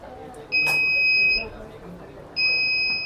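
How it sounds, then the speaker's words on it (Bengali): An electronic alarm on an industrial PLC-controlled motor sounds two long, steady high-pitched beeps separated by a short pause, loud and close. "তখন অ্যালার্মটা বেজে যাবে"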